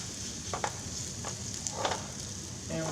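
Small rounds of food frying in a pan give off a steady, close sizzle with brief scraping and stirring touches over the hiss.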